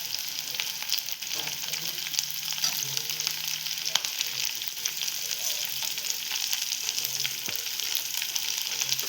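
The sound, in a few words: chopped onion and bell pepper frying in a pan for paneer chilli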